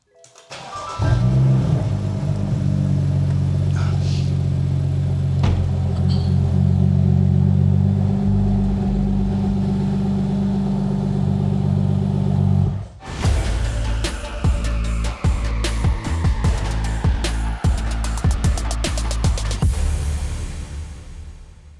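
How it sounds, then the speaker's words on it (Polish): A BMW car engine is started after a repair to check for leaks. It fires up and holds a loud, steady low idle for about twelve seconds, then the sound shifts to a clattery, ticking run with sharp clicks. "uruchomię tylko silnik, żeby zobaczyć, jak tam, czy nie ma wycieku"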